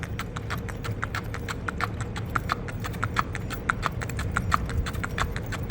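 A horse's hooves clip-clop in a steady, even walking rhythm on firm ground during gait training, close and continuous over low background noise.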